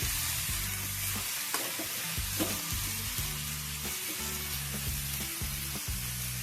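Bottle gourd stirred with salt in a hot pan, a steady close sizzle and frying hiss running throughout, with repeated scraping strokes of a spoon against the pan at a regular rhythm.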